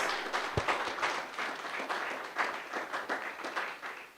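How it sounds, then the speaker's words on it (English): A room full of people at an opening ceremony claps in a moderate, fairly close round of applause, individual claps audible within the steady patter, with no speech over it. "Give them a round of applause."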